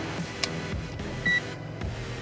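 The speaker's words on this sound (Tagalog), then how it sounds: "Magbi-beep ngayon itong ating, or tutunog ngayon itong ating positive and negative probe kapag pinagdikit natin siya." A digital multimeter set to continuity mode gives short electronic beeps as its probes touch, two brief tones standing out over a steady background hum.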